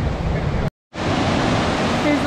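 A small unnamed waterfall on the trail to Virginia Falls in Glacier National Park gives a steady broadband rush of falling water, close and fairly loud, with one brief break in the sound.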